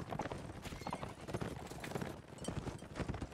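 Rapid horse hoofbeats in a video game clip-clop steadily at a quick rhythm, faint and somewhat distant.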